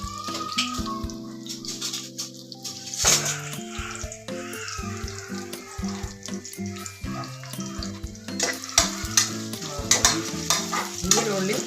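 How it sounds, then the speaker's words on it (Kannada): Onions fry in hot oil with a soft sizzle under stirring and clattering of a utensil in the pan, steady and close. "ಈರುಳ್ಳಿ ಚೆನ್ನಾಗಿ ಫ್ರೈ ಆಗಬೇಕು."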